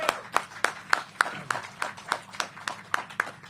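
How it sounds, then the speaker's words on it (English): Rhythmic, evenly spaced claps, about three per second, sound at a senior affordable housing unveiling with the DC mayor, fairly faint and without talk. "that deserves another round of applause"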